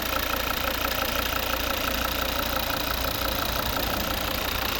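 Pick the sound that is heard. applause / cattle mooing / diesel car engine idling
diesel car engine idling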